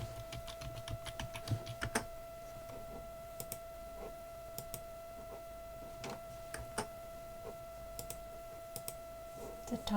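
A password is typed on a computer keyboard at a desk, with quick, quiet key clicks in short bursts and small pauses and a faint steady hum underneath.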